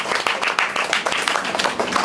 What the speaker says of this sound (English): please give a big round of applause to Joanne